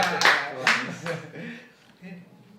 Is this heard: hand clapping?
yes